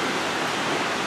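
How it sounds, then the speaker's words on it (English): Heavy rain pours outside a 2010 Keystone Montana RV, a dense, steady hiss of drops that fills the whole moment evenly with no voices. "Hope you can hear all that rain in the background, but that is pouring out right now."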